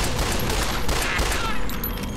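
Rapid gunfire in Fallout: New Vegas while shooting geckos, a dense continuous burst of shots filling the whole moment at close range.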